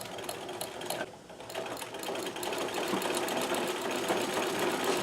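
Singer 237 sewing machine running steadily, a close, continuous mechanical whir with fast rhythmic stitching clatter that pauses briefly and then picks up again at a constant pace.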